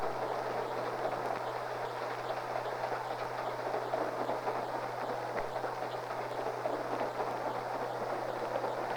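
A ski train rolls through the tunnel district of the old Moffat Railroad with a steady, continuous rumble and faint rhythmic clatter of wheels on track, plus a constant low hum throughout.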